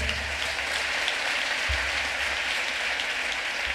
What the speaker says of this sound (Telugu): చప్పట్లు కొడదామా గట్టిగా?